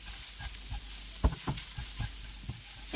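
Rabbit meat browning in a pan gives a soft, steady sizzle with a few scraping stir clicks and thumps. A short louder knock comes near the middle.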